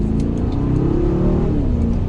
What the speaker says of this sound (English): you can give it a little bit of gas there and hear that engine note